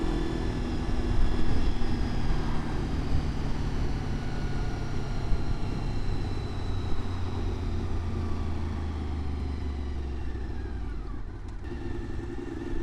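A motorcycle fitted with an aftermarket exhaust runs along smoothly, a steady moderate engine drone with wind rush heard from the rider's position, rising and easing slightly, with no talk.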